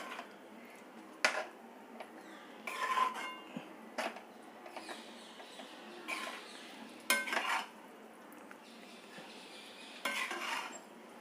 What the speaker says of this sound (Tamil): இதை இப்படியே கிளறி விட்டுட்டு காட்டுறேன்.